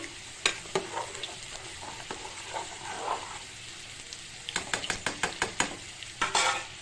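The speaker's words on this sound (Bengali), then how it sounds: "এবারটা এটার মধ্যে এই যে ফুলকপিটা দিয়ে দেবো, দিয়ে একটু নাড়িয়ে নেব।" Cauliflower stirred into hot oil in a pan, with a quiet frying hiss under several sharp scraping strokes from a spoon, clustered near the end.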